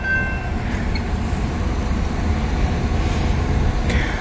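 A train, likely Union Pacific or BNSF freight power, rolls through a level crossing as a steady, continuous rumble of wheels and cars, close by and unbroken, with no voices.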